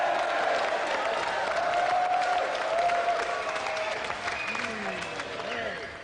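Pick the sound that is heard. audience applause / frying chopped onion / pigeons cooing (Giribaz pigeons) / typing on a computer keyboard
audience applause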